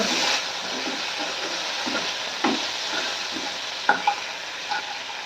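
Shrimp frying in hot oil give a steady close sizzle with occasional soft stirring scrapes and a few sharp spits, no voices present.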